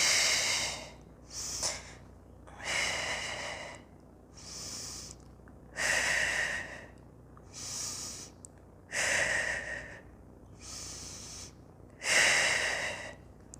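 Slow, deep breathing held in a yoga pose: about eight steady, airy inhales and exhales, each a few seconds long, close to the listener and quiet, with no talk over them.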